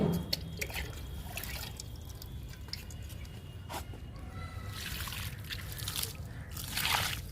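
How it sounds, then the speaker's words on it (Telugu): Water poured onto a potted hibiscus plant, a soft, steady trickle with scattered drips and splashes across the clip, a little stronger at the beginning and end, no voices. "మందారానికి వాటర్ ఇస్తున్నా."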